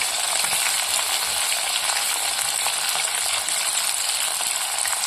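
Curry leaves frying in hot oil in a pan for a homemade ginger chutney, giving a steady, dense, close sizzle that holds evenly throughout with no voices.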